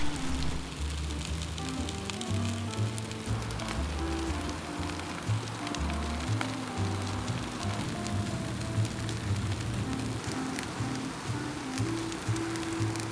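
Puff pastry Christmas tree pizzas frying on an oiled Blackstone griddle, a steady close crackling sizzle like light rain, continuous throughout with a low hum underneath.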